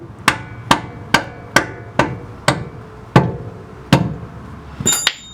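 Hammer blows on metal parts while fitting suspension arms on a JZX100 Chaser drift car: about ten sharp, ringing strikes in a steady rhythm, close and loud, each decaying quickly, ending in a higher metallic clink.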